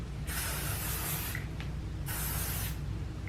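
Stronghold hairspray sprays from an aerosol can in two hissing bursts, each about a second long, close and moderately loud over a quiet room, with no voices.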